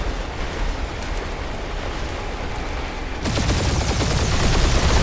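Space dogfight gunfire from the Guardians of the Galaxy video game, a dense continuous roar of rapid blasts that jumps abruptly louder partway through, with no speech.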